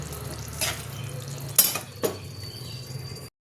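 Spice paste and potatoes being sautéed in a pan: a soft steady frying hiss under a few sharp utensil scrapes and clanks, close by, cutting off abruptly at the end.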